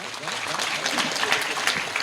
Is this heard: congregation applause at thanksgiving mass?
yes